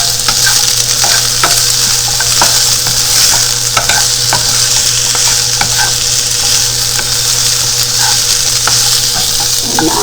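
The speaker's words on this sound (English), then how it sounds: "Now I can add the diced eggplant to it. Saute them from 5 to 7 minutes." Diced small round eggplant sautéing in a pan, a steady close sizzle with occasional stirring clicks and scrapes, continuous and alone without talk.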